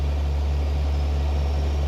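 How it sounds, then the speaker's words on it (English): A heavy cement truck engine rumbles steadily with a deep low drone, close by and loud, with no voices. "Check out that truck just rolling by us."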